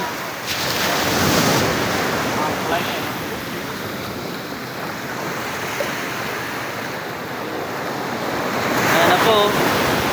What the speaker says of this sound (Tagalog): masyadong malakas yung alon